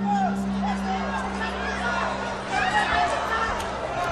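Boxing arena crowd reacting to the action, a dense murmuring babble of many voices with rising swells of cheering, while a commentator-like voice carries over the noise.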